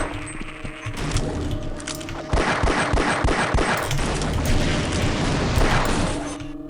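Weapon fire and explosions from Half-Life: Decay: dense, rapid gunfire-like bursts with heavy thuds, swelling into a louder barrage after a couple of seconds and rattling on steadily to the end.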